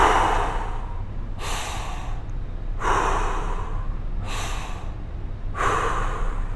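Forceful belly breathing exercise: four or five strong, sharp breaths, close and loud, evenly spaced about every one and a half seconds, with no talking between them.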